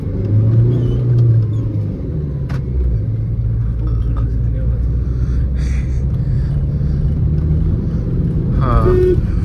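A 2012 Suzuki Swift VDI diesel engine rumbles steadily and loudly as heard from inside the car, with a low drone that rises slightly when it revs.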